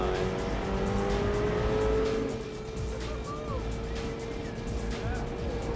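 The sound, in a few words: race car driving around Silverstone track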